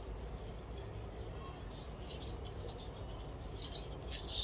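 A Japanese kitchen knife edge being re-profiled on a sharpening stone, following the original bevel angle, gives a steady close rasping rub with rhythmic strokes and gritty bursts of scraping over low background hum.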